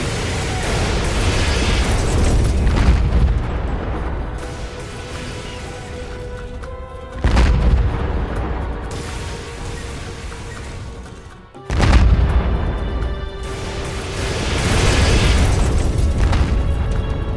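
Gunfire and explosions in the World War II strategy game Codename Panzers 2 during a Tobruk mission, a continuous dense roar of blasts with two sharp booming impacts standing out, loud and without speech.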